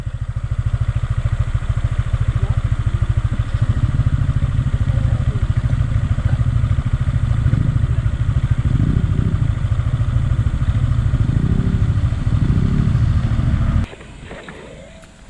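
Motorcycle engines idle steadily for a long stretch, a low throbbing rumble that cuts out abruptly near the end.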